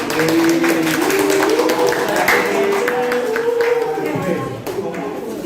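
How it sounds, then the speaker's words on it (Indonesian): Classroom applause for a student's correct answer during a university teaching session: a steady patter of many hands clapping, mixed with voices talking throughout and fading slightly near the end. "Tepuk tangannya dong"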